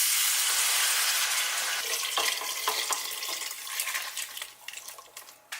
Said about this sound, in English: Then we're going in with 4 cups of beef broth.